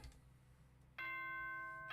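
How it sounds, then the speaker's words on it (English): Chime announcement from Danganronpa: Trigger Happy Havoc, a bright multi-tone electronic chime that starts abruptly after a quiet stretch and rings on steadily, loud and near, with no voice over it. "Ding dong, bing bong."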